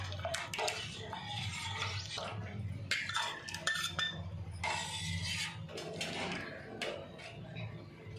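Spoon stirring milk powder into basundi in a metal pan, steady scraping and clinking against the pan with soft liquid churning, close and continuous.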